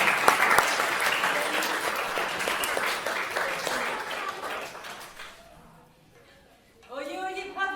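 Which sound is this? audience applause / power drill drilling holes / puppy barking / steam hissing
audience applause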